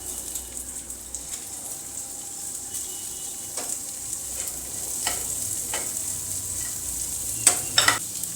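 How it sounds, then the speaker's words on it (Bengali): Mung dal frying in hot oil while being stirred, a steady close sizzle with a few sharp scraping clicks near the end and no voices. "মুগ ডালটা এবার আমি তেলের মধ্যে দিয়ে একটু সামান্য নেড়ে নেব।"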